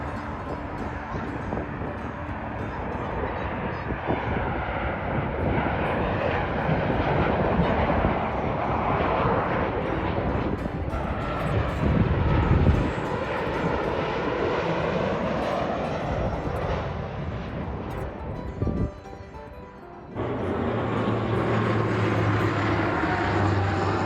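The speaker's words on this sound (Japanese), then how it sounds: "ランウェイ16側に入ってくる飛行機を間近に見ることができます。" Airplanes roar continuously at close range as they fly in low toward runway 16 at Fukuoka Airport, the jet engine noise swelling and shifting with a brief dip near the end, heard from a park beside the field.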